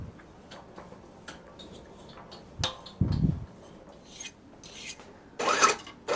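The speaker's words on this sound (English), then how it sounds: "just filing the end of the wire to prepare it for the next process" Short rasping file strokes work the end of 22-karat gold wire at a jeweller's bench during ancient Greek-style chain making. The scrapes come in separate, uneven bursts, with small ticks and clinks between them in a quiet room.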